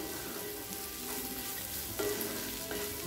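Boiled peas and potato sautéing gently in a kadai for aval upma, a low, quiet sizzle with a few soft spatula taps and scrapes, close by and without speech.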